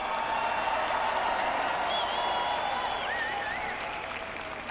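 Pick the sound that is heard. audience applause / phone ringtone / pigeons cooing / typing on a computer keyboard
audience applause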